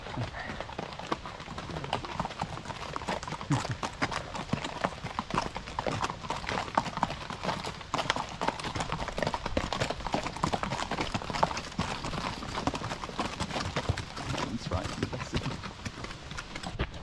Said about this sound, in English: We just had a horse pack.